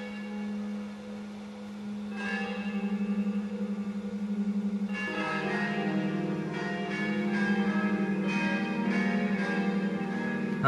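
Church bells ring in a full peal with sustained tonal strikes, one bell joining late. More bells enter with louder overlapping strokes partway through, heard from fairly near with no talking.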